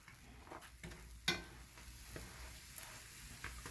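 Yeast fry bakes sizzle quietly in hot oil, a soft, crackling hiss broken by a few sharp pops and clicks as they are turned. No one speaks.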